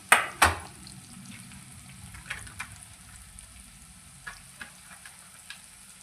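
Onion masala with red chilli, turmeric and byadgi chilli powder fries in a pan, a soft steady sizzle broken by two sharp stir clanks at the start and a few lighter scrapes later.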